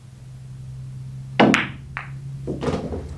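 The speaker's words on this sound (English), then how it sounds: "now here you're going to shoot this 11 into the side, and that's a natural carom line onto this 3." Billiard balls struck on a pool table, a dull knock of cue on ball followed by clacks of the balls colliding and rolling toward the pocket, moderately close with no talk.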